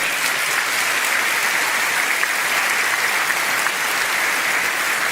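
Sustained applause from an audience filling a rally hall in Norfolk, a dense, steady clatter of many hands clapping at full volume throughout with no break.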